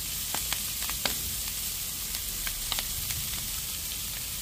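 Pork ears with sesame sizzling on a barbecue, a steady hiss of frying fat with scattered sharp pops and crackles, close and continuous.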